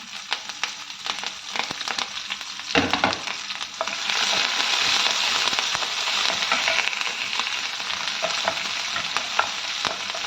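Green chillies hit hot oil for a mutter paneer masala: a steady sizzle with stirring clicks, a sharp crackle near the start, then a louder, denser hiss that holds to the end, close and without speech.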